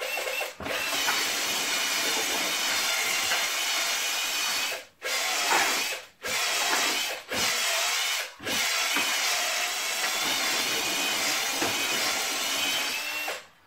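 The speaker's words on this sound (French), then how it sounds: "là je peux repasser en vitesse rapide pour enlever tout ce qu'il y a dessus" Cordless drill/driver spinning at high speed to strip material off, a loud continuous whine broken by several short stops and restarts, close up with no talking.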